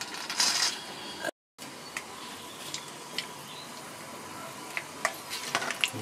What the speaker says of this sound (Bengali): বাদামগুলো ভেজে নিচ্ছি আগে